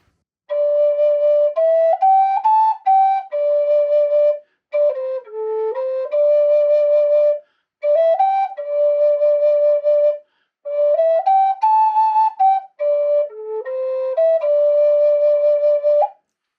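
An A-pitched Native American flute plays a mode 3 scale from D. The pure, breathy tone rises and falls through the notes in four phrases separated by brief pauses, clear and alone.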